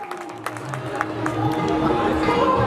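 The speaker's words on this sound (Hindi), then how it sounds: "जोरदार ताली से स्वागत कीजिए।" A crowd at an evening Chhath Puja gathering claps to welcome a police station officer, scattered claps swelling into a denser, louder round of applause mixed with crowd murmur and voices.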